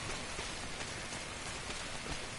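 Steady rain, the timefall of the video game Death Stranding, hisses evenly and densely throughout, a constant wash of raindrops on surfaces with no talking.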